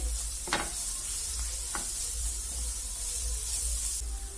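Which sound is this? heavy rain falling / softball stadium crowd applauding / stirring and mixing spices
stirring and mixing spices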